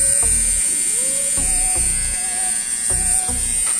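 A Vintage T9 hair trimmer buzzing steadily up close with a bright electric whine, while repeated low knocks and bumps come from handling and pressing it.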